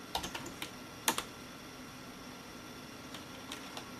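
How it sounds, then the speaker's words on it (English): Keys tapped on a computer keyboard entering an ADB shell command, a short cluster of light clicks followed by a pause and a few sparse taps, close and quiet over a faint hum. "We're going to type cd cache."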